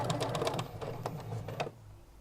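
Domestic sewing machine stitching bias binding onto fabric bunting flags, a steady close mechanical whirr with a few clicking bursts that stops abruptly near the end.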